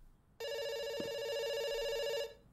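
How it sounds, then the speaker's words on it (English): A single sustained telephone ring in a video game, a bright buzzing electronic trill that starts abruptly, holds for about two seconds and cuts off, heard alone. "It's ringing."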